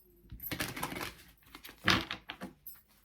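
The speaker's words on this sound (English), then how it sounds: "One more shuffle." Tarot cards being shuffled close by, a series of quick papery riffles and flicks with one sharper burst in the middle.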